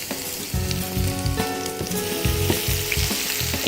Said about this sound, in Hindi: इसको फ्राई करें।